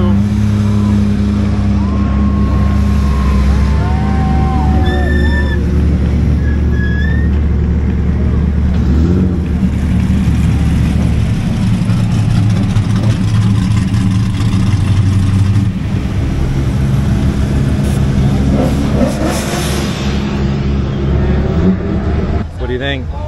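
Drift cars at a Formula Drift event at Irwindale in 2023 pass on the track with loud engine roar and revving that swell and fade, while a person talks close by over the noise.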